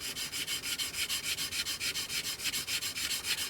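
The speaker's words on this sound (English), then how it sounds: "we're not really pressing down on the sanding sponge, we're letting the coarse nature of the surface do the work without pushing down" Coarse sanding sponge rubbing over filler and primer on a 1/48 scale Italeri Hawk model kit, a steady run of quick back-and-forth scratchy strokes in an even rhythm, close and fairly quiet, with no voices.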